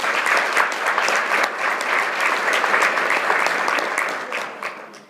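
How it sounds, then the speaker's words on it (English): An audience at a legal update meeting claps in a dense, sustained round of applause that tapers off toward the end, with no talk over it. "let's have a little applause for our efforts"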